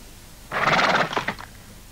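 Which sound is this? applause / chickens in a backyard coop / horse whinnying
horse whinnying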